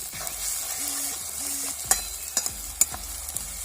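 Chili paste for Maharashtrian zunka sizzles in a pan as it is stirred, with a steady frying hiss broken by a few sharp scrapes and clicks from the spoon.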